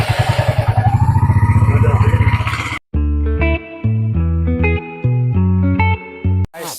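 A Royal Enfield Hunter 350 motorcycle thumps loudly up close with a rapid, even single-cylinder pulse for nearly three seconds, then stops abruptly as music takes over.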